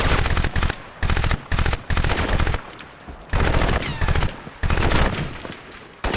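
Bursts of automatic gunfire from an AI soldier in the video game Crysis, loud rapid rattling volleys in about six clusters with short gaps between them.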